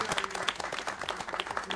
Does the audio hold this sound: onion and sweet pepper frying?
no